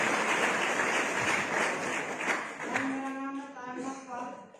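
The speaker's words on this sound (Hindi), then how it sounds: "जोरदार तालियां के लिए" Audience clapping at a motivational seminar, a fairly loud wash of hands that thins and fades over a few seconds while a voice begins talking over the tail.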